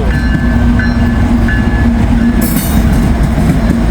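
A coal train passes on the rails in Northern Kentucky, with a steady loud rumble of railcars, a faint high screech and a brief burst of hiss near the end, no talking.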